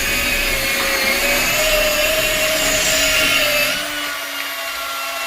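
A drywall sander, Mirka or Festool, set to speed 6 with sanding pads, runs steadily with a loud continuous motor whine and abrasive hiss, dropping slightly near the end.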